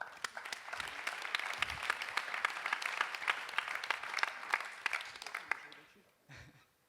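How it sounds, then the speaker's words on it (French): Audience applause at a French talk-show-style gathering, a dense steady clatter of many hands that runs for about six seconds before fading out, with a brief murmur after. "On peut applaudir Sylvain."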